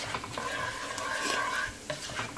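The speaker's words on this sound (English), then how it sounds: "Just gonna allow my garlic to just burn in" Garlic frying and being stirred in a pan for Jamaican-style curry pineapple shrimp, a close, steady sizzle with scraping stir strokes throughout.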